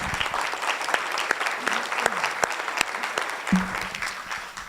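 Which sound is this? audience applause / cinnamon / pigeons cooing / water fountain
audience applause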